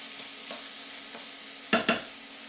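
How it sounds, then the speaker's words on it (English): Onions and mushrooms sizzle softly in a pan, with faint scrapes from occasional stirring and then two sharp, close knocks of the utensil against the pan near the end. "Don't forget to stir your onions and your mushrooms on occasion"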